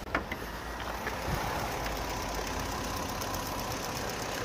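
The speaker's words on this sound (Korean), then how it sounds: "현재 그랜저 TG의 엔진음입니다" A Hyundai Grandeur TG 2.7 engine idles steadily and smoothly with the hood open, a continuous low hum with a faint mechanical tick, fairly quiet and close.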